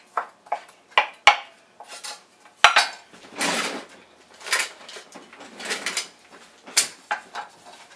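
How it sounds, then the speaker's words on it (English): Knife work on leftover baked turkey, cut into bite-sized chunks: a run of sharp clinks and taps of a blade against a plate or board, with some cutlery and dish rattles, close and fairly loud, irregular rhythm, no talking. "just cut it into bite-sized pieces. Little chunks."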